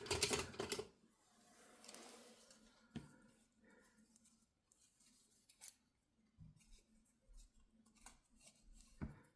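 Ordinary non-fabric scissors snip through the selvage edge of fabric, giving a few short, faint cuts spread across quiet stretches, with one louder burst at the start.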